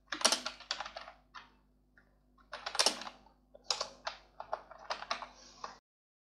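Quick, light keystrokes on a computer keyboard come in irregular bursts with short pauses, close and fairly soft, with no talking.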